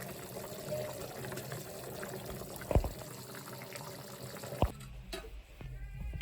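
Crab curry bubbles and simmers in a pot, a steady liquid boiling texture with a couple of sharper pops or clinks standing out above it.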